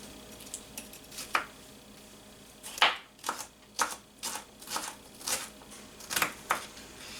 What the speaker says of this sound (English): just slice this into nice little strips.